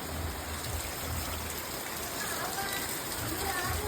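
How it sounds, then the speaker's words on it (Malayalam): Heavy rain falls outside as a steady, dense wash of noise throughout, with a low rumble underneath and faint voices in the background. "അതെങ്ങനെയായി പുറത്ത് നല്ല മഴയാണ്"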